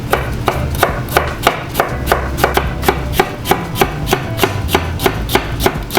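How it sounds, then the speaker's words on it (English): A knife thinly slicing vegetables for a vegetable udon noodle soup makes crisp, evenly spaced chops on a cutting board, about two to three per second, close and steady with a faint low hum underneath. "Now we're gonna thinly slice these."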